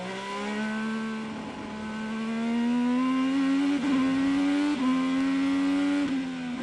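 IndyCar race car engine recorded onboard Ed Jones's car at the 2018 Grand Prix of Indianapolis: a loud, continuous high-pitched whine that climbs steadily, with several brief dips as gears shift, close and alone.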